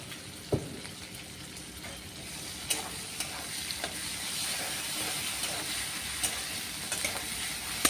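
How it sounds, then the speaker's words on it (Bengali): Ginger paste and tomato sauté in a pan for a bhetki fish jhol, making a soft continuous sizzle with a few light clicks of a spatula against the pan. "এটাকে ভালো করে কষাই আগে, কষিয়ে নিচ্ছি"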